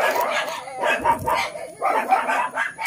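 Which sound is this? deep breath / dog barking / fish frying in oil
dog barking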